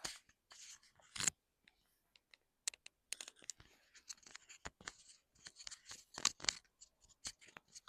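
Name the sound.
microphone being handled and repositioned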